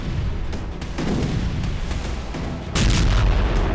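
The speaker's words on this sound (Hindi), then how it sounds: "जबरदस्त धमाके का यह वीडियो पश्चिमी डोनेस्क का है, जहां रूस ने यूक्रेन का एक हथियार डिपो तबाह कर दिया।" Explosions rip through a destroyed weapons depot in western Donetsk, a rolling series of booms and crackling blasts over a constant low rumble, with a heavier surge near the end.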